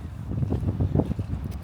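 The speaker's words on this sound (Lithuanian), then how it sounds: "vėjas visur" Wind buffeting the microphone outdoors on a Reykjavik street, a steady low rumbling gust with slight pulsing, fairly loud and close.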